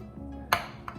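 A couple of sharp ceramic clinks from a casserole dish being handled, a bright knock followed by a softer one, close by in a quiet room.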